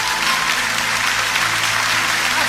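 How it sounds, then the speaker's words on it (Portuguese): A church congregation gives strong, dense applause, a loud continuous roar of many hands clapping together that stays level throughout. "Dê uma forte salva de palmas para o Senhor Jesus."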